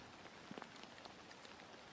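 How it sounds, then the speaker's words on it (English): Rain falls steadily on an outdoor disc golf course during a European Pro Tour round in Estonia, a soft continuous patter with scattered brief drop taps and no voices. "The rain is picking up."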